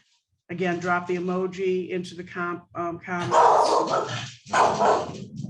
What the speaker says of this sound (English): That's my dog barking at our neighbors.